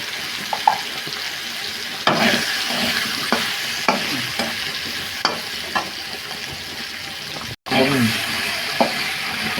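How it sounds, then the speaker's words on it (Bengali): Potatoes sprinkled with turmeric fry in a pan, a close continuous sizzle broken by repeated stirring scrapes and clinks, with a brief dropout near the end. "আলুগুলো ছেড়ে দিলাম, আলুগুলো একটু ফ্রাই করে নিই। একটু হলুদ দিয়ে দিচ্ছি।"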